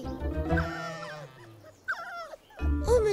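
Cartoon dogs in a Charlotte aux Fraises animated episode let out a few short yips and whimpers, with a pause between bursts, over light background music.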